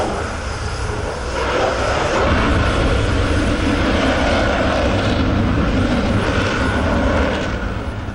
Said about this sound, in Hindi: 3 राफेल विमानों ने हवा में कलाबाजियां और करतब दिखाए